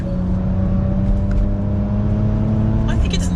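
A Porsche Macan Turbo Performance SUV with a heavily turbocharged V6 drones steadily at close range, a low continuous engine hum that swells slightly near the end, with a voice talking over it.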